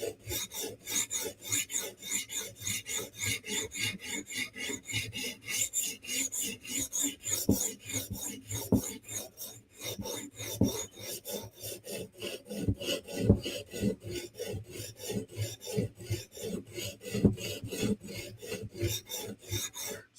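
A Medford flipper knife is sharpened on a Hapstone RS guided sharpener, the stone rasping across the steel in quick, even back-and-forth strokes, close and steady for a long run without talk.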